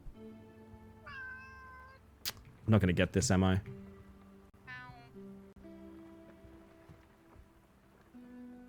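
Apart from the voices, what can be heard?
cat meowing stock sound in a video game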